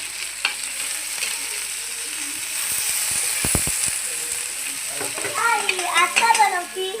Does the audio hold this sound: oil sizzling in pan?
yes